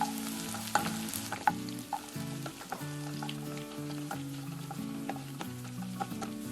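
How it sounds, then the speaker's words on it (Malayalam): Sliced shallots and curry leaves sizzle steadily in hot oil for a Kerala-style tomato curry, with occasional stirring scrapes, under background music. "ഇനി ഇതിലേക്ക് 5 ചെറിയുള്ളി സ്ലൈസ് ചെയ്തത് ചേർത്ത് ഗോൾഡൻ ബ്രൗൺ കളർ ആവുന്നത് വരെ ഇളക്കുക."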